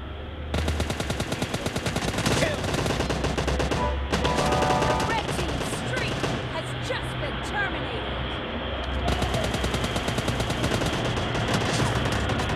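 Sustained automatic machine gun fire from PUBG Mobile, delivered as dense, rapid bursts of loud, evenly spaced shots with brief gaps, over continuous in-game background noise.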